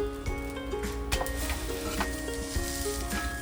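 Stuffed cheesy pav roasting in a pan over low heat gives a continuous close sizzle and soft crackle with faint clinks, steady throughout and no voices.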